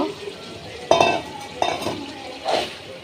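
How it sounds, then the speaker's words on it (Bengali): Meat is sautéed in a pan, with a spatula scraping and clinking against the metal in three distinct strokes over a low, steady frying hiss. "আর এদিকে মাংসটা কষানো হচ্ছে"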